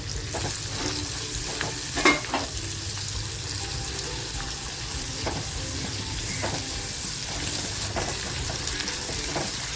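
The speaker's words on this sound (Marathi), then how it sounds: "थोडंसं तेल टाकते कांदा जो एक कापून घेतला होता तो टाकते" Cut onion fries in a little oil in a kadhai for paneer tikka masala, a steady close sizzle with occasional stirring clinks over a faint background of running water.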